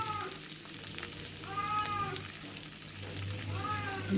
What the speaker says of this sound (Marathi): मिरच्या, लसूण टाकला आणि शेंगदाणे.